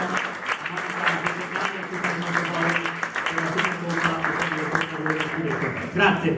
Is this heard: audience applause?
yes